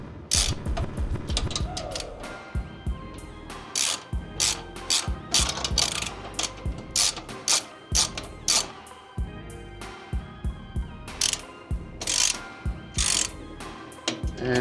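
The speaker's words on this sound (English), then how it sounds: "on the top side of the reducer here with a 15 millimeter socket. Get this tightened down." A ratchet with a 15mm socket tightens a bolt on the downpipe reducer clamp of an MK7 GLI, giving loud, close bursts of rapid clicking in repeated strokes with short pauses between them.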